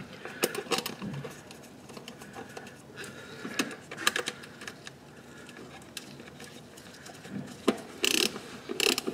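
A hand ratchet tightens the 10 mm throttle body bolts on a Toyota Prius, with bursts of quick metallic clicking and pauses between strokes, close and fairly quiet amid small tool handling sounds.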